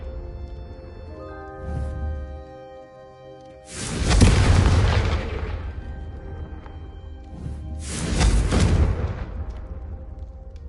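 Two heavy fiery blasts from the Confringo spell in a Harry Potter video game, each a deep booming burst that swells and fades, the second arriving about four seconds after the first over a low musical backdrop.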